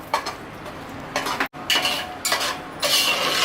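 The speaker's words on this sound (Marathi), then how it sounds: "त्याच्यामुळे अगदी छान रवा आपल्याला परतायचा आहे" Semolina (rava) roasting in a pan for Satyanarayan puja prasad is stirred with a utensil, giving close, intermittent scraping and clinking strokes with short pauses and one abrupt break partway through.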